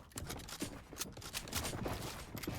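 Rapid bursts of gunfire from a Fortnite match in a competitive World Cup qualifier, sharp repeated shots packed closely together with a busy, continuous mix and no talk over it.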